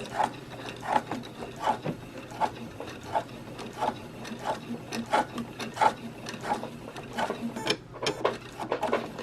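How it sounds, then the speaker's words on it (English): A sewing machine stitches back and forth over fabric while making a baby's pacifier clip, giving a steady, rhythmic mechanical chatter of close stitches with no voices. "stitch again, and then reverse one more time, because you want to stitch over that a couple of times."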